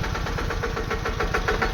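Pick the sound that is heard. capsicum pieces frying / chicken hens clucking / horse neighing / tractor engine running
tractor engine running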